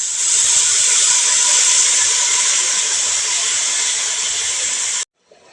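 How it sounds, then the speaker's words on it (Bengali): Hot water poured into a pot of fried rice for Bangladeshi shahi pulao bursts into a loud, continuous steamy hiss that holds for about five seconds, then cuts off abruptly. "এই পাত্রেই গরম করা পানি আমি দিয়ে দিলাম।"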